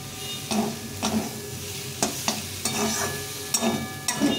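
Tomato strips are stirred into a frying pan of spiced greens seeds, giving a steady sizzle. Several sharp scrapes of the spoon come at irregular intervals, close and clear, with no talking.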